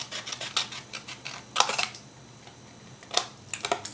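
Scissors snip a paper tab off a handmade gift card holder, several short crisp cuts in a quiet room, close and moderately loud, with small paper handling sounds between snips and no talking.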